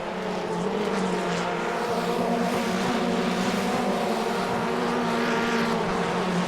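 Race cars in a sim racing game accelerating together at a race restart, giving a dense, steady engine roar that holds at a constant loud level throughout.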